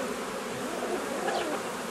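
Honeybees and drones buzz in a dense, steady hum inside a hive, close and unbroken through the short stretch.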